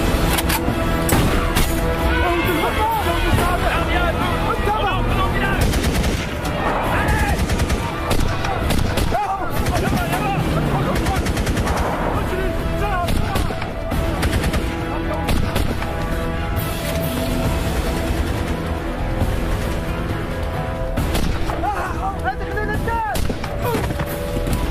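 Sustained, dense gunfire with rapid machine-gun bursts and heavy shots during a desert hostage rescue in Mali, loud and continuous throughout with shouting voices mixed in.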